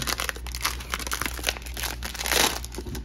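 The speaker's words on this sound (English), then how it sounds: "Let's rip it open." A tight plastic pack bag is torn open close by with continuous crisp crinkling and crackling that swells to a louder rip near the end. No one speaks.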